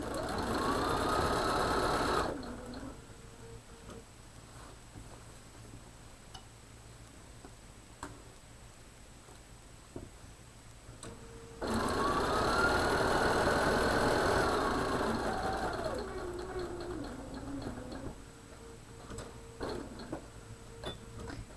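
Sewing machine stitching a fabric cushion that holds clips and pins, two loud steady runs of rapid stitching separated by a quieter pause with faint handling of the fabric while pivoting at a corner.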